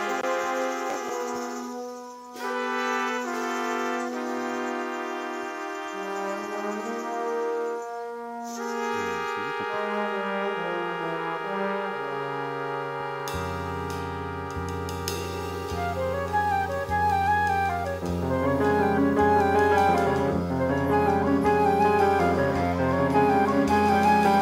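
A Colombian bambuco, opening with sparse melodic lines that build into a full, sustained ensemble with a deep bass underneath, continuous and fairly loud throughout.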